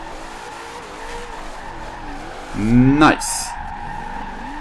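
A Chevrolet Corvette drift build in Forza Horizon 2 slides through a corner, engine note rising and a sharp tire squeal peaking midway before settling; a voice briefly comments.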